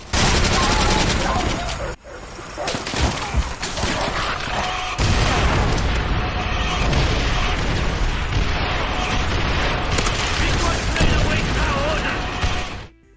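Dense, chaotic gunfire and booming explosions from the video game Call of Duty: World at War crash together continuously at close range, with rapid automatic bursts and heavy blasts barely pausing.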